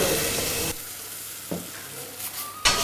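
Coconut milk squeezed from grated coconut is stirred into a mixture in a pot, a loud wet scraping swirl that stops abruptly, followed by a few faint clinks and a final sharp stir.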